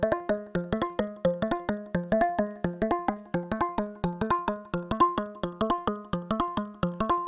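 A synthesized bell melody with every note at the same velocity, in a 174 BPM drum and bass production, plays as an even, bright, evenly spaced run of struck tones with no accents, alone and up close.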